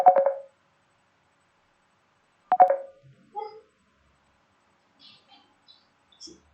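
A telephone rings with two short bursts of electronic tone about two and a half seconds apart, then a few faint, scattered small sounds in an otherwise quiet room.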